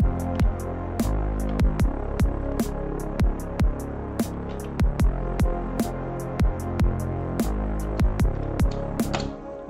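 Sidechain ducking demonstrated in Bitwig: a steady synth bed repeatedly dips and swells under sharp, regular kick-like hits, creating a pumping rhythm, loud and alone.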